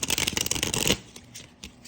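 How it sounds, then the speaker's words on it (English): A deck of oracle cards being shuffled in quick, close riffling bursts for about a second, then quieter scattered card sounds. "I'm gonna give these a good shuffle."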